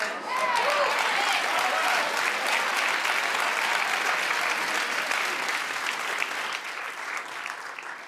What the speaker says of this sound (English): I don't know why they're clapping for that